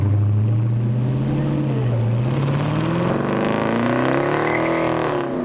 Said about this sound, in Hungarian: tesztvezetésen vehettek részt egy Ford Mustang GT55-ös modellben